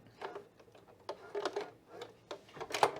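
A sewing machine stitches fabric in short quiet bursts of rapid mechanical clatter, stopping and starting irregularly, close by with a faint background hum, while sewing a Cashmerette Brattle top.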